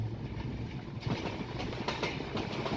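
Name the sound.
train running at Hili station on India-Bangladesh border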